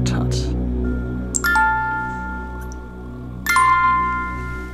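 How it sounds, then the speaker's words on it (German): An old music box in an abandoned villa chimes a slow, eerie melody of a few bright bell-like notes that ring and decay, sounding behind a continuous low room hum. "Die Spieluhr einer längst vergangenen Zeit, die noch immer ihre geisterhaften Melodien intakt hat."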